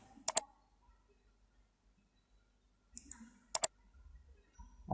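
Mouse clicks while working in Draco Soccer Xpression software: one crisp double click, then after a pause a few more sharp clicks close together, close-miked, with faint murmuring in the quiet gaps.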